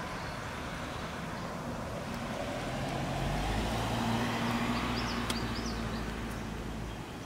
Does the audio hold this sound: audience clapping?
no